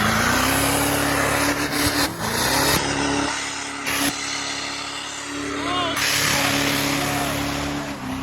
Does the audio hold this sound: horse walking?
no